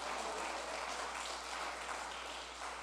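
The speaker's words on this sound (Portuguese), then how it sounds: "As palmas para o Senhor" A church congregation claps together in steady, dense applause, loud and continuous throughout with no pauses.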